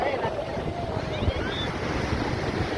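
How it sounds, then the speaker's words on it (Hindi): Ocean waves wash steadily onto the beach at Dhanushkodi, Tamil Nadu, a continuous surf roar with wind noise on the microphone and a faint voice in the background. "इस समय धनुषकोडी में लहरें थोड़ा आगे तक आने लगी हैं"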